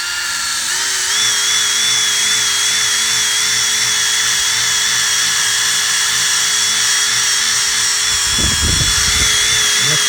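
A corded drill fitted with a Power-TEC 91488 stripping wheel spins steadily at high speed, taking vinyl decals off a vehicle's paintwork. Its loud, even whine runs close and unbroken, with a brief rougher grinding burst near the end.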